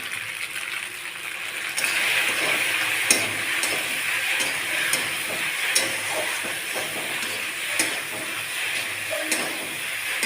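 Pasta seasoned with turmeric and salt fries in a pan, giving a steady low sizzling hiss with occasional spatula scrapes and taps as it is stirred, close and continuous.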